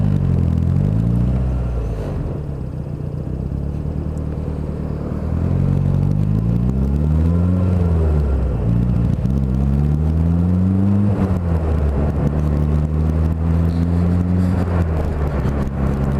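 A car engine runs and revs while being driven, loud and close, with the pitch climbing and falling repeatedly through gear changes and a sustained drone between rises.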